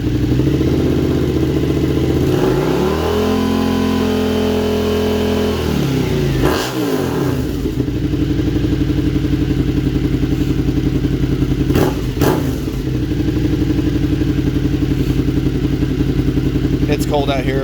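Suzuki SV650 motorcycle with an aftermarket exhaust, starting cold and idling: a loud low rumble rises, settles into a steady throbbing idle with a few sharp blips and clanks, heard close up with no talk.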